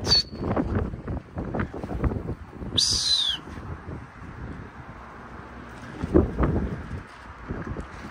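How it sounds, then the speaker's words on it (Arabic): Strong gusts buffet the microphone in repeated low rumbling bursts, with a brief high bird-like chirp partway through. "اليوم هوا ما شاء الله، هوا قوي همينة"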